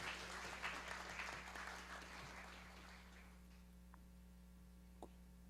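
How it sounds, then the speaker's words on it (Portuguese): Audience applause at a solemn ceremony in the São Paulo state legislature honoring Portugal Day, a dense clatter of hands that fades away by the middle, leaving a steady electrical hum and a couple of isolated taps. "Uma salva de palmas a Fernando Martins Gouveia."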